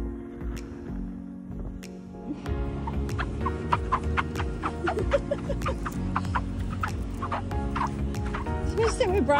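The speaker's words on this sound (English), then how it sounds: "The place where your feet sound like ducks." Footsteps on squeaky beach sand at Bribie Island give a run of quacking, duck-like squeaks in an uneven walking rhythm over a steady low rumble.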